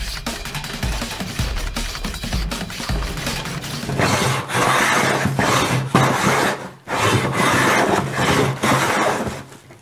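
Hand plane shaving wood, its blade being adjusted while making natural DIY fire starters; repeated rasping, scraping strokes, loud and close, with a steadier, denser stretch of shaving in the second half.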